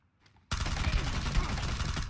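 Sustained burst of rapid gunfire in the battle royale shooter PUBG, loud and continuous for nearly two seconds after a brief quiet start.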